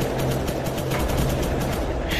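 Dense, continuous rifle and machine-gun fire in a historical battle between Ethiopian and Italian forces, a rapid crackling barrage heard as a steady roar of volleys without pauses.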